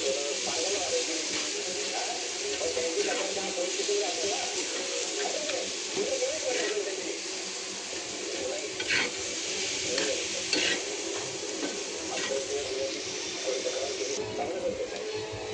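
Chopped onion and masala being stirred and fried on a tawa, a continuous sizzle under repeated scraping and clinking of the spatula against the pan, close and steady throughout.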